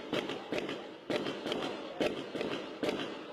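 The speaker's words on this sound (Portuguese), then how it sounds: "Moradores registraram o som dos tiros." Eight sharp gunshot cracks ring out at uneven intervals in a street, each one loud and echoing against a constant background hiss.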